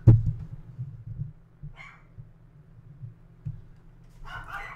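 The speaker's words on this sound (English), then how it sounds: "Can you hear my dogs barking?" Dogs bark faintly in the distance, two short bursts set apart by a few seconds over a low steady indoor hum.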